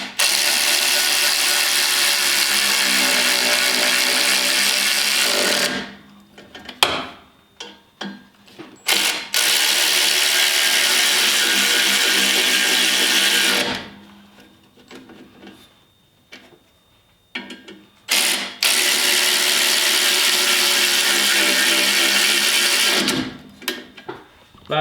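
A Snap-on electric ratchet wrench tightens bolts on a spare tire carrier for a Maverick X3, giving loud sustained whirring bursts several seconds long, split by pauses filled with clanks and handling noises.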